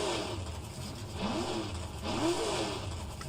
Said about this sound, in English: I could just sit here and rev the engine up all night.